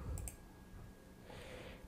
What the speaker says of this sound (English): clicking on continue